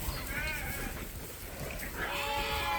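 Lambs bleating on a sheep farm, several thin wavering cries rising and falling, moderately close, over a noisy outdoor background.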